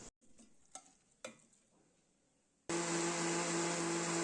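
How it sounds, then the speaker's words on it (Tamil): A few faint clinks and taps, then a mixer grinder starts up and grinds cooled roasted spice masala with a loud, steady whirring roar. "ஆற வச்சு மிக்ஸி ஜாரில் அரைச்சி எடுத்துக்கலாம்"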